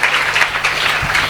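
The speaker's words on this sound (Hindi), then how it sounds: "आप सब जोर से ताली बजाकर" A church congregation in a prayer hall applauds loudly, a dense, continuous wash of many hands clapping together, filling the room without break.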